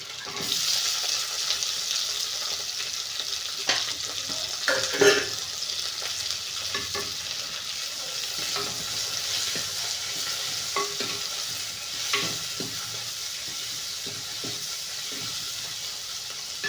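Onions sizzle steadily in a hot pan while a utensil stirs and scrapes through them now and then, the frying hiss staying loud and continuous up close.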